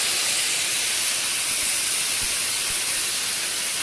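Water poured into a hot stovetop pan holding steak sends up a continuous loud steam hiss, steady and sizzling throughout with a couple of faint low knocks.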